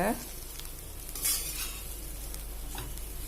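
Raw banana podimas being stirred with onion and salt in a pan: a soft, steady sizzle with a few scraping spoon strokes, close and fairly quiet, no voices.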